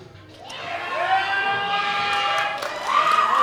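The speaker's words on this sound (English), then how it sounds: "crowd is freaking out" A crowd cheering and whooping at the World Open Powerlifting Championships 2016, loud sustained shouts and high yells swelling after a lift in the men's 120+ kg class.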